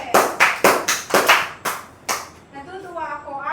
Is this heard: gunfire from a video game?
no